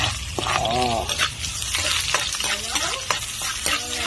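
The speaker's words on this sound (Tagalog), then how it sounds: "Ready na, gisa ako ng sibuyas." Onions sautéed in a pan for ginisang maligoso with kamote, a steady frying sizzle with stirring scrapes while a voice speaks over it.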